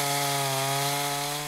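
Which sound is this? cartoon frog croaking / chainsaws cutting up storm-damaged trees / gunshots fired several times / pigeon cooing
chainsaws cutting up storm-damaged trees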